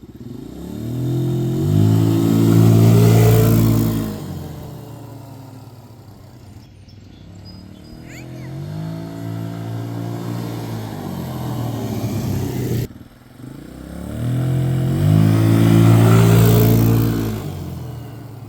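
A Kawasaki KFX90 quad with a changed sprocket runs a test pass, its small engine revving up loudly through rising whines, dropping off, then climbing again in three separate accelerating pulls with no voices.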